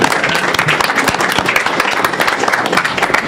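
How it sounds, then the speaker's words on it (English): Loud, dense clapping from a room full of people at a city council meeting, close and sustained without a break, with a few faint voices mixed in. "So if you'll all join me in giving her a round of applause."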